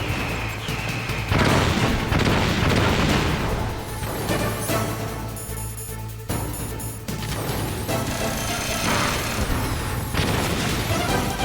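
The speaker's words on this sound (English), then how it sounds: "Throw some chaff grenades" Chaff grenades going off in the Metal Gear Solid video game, a loud dense run of booming crashes and bursts lasting several seconds with sharp impacts and crackling debris over a low rumble.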